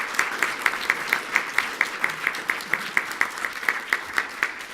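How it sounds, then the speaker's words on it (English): Audience applause at a trans rights event in Ireland, with steady moderate clapping and a few prominent rhythmic claps repeating through the whole stretch. "So can we get a round of applause for them?"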